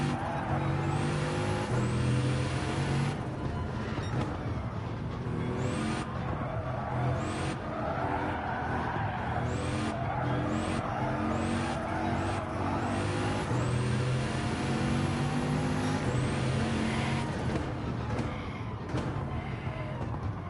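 A race car in Gran Turismo 7 with a steady loud engine drone and repeated sharp braking squeals and skidding hisses recurring every couple of seconds, no voices.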